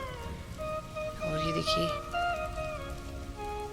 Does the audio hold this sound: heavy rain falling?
yes